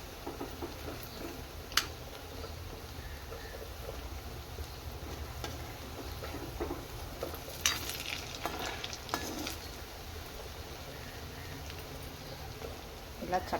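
Vadas fry in oil over a medium flame while being turned, a continuous moderate sizzle with occasional small pops and stirring knocks, and a voice faintly present underneath.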